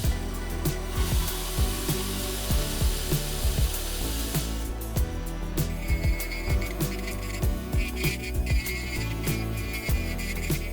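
A thin scrap-wood name tag is sawn lengthwise in two, a continuous close, rhythmic rasping cut with a repeating low motor-like pulse throughout.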